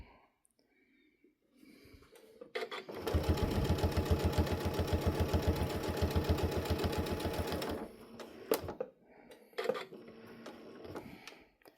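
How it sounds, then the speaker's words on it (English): A sewing machine stitching binding on a quilted dish towel runs steadily for about five seconds with a fast even needle rhythm, then stops, with quiet handling noises before and after. "This is something else I would also really slow down if your machine has a speed control to slow"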